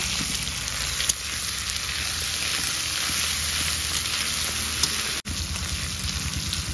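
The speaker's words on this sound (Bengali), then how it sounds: "রসুনটা একটু ভেজে নিয়ে তারপর আদা বাটা দেব" Garlic paste frying in a pan for a tamarind chicken kosha makes a steady, soft sizzle with fine crackle. It runs evenly and close, with one brief dropout near the end.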